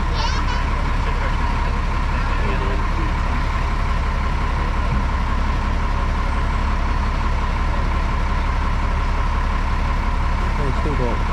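A safari truck's engine runs steadily on a wildlife park ride at Port Lympne, a continuous low rumble with a broad mid-range drone, close and constant under faint background voices and chatter.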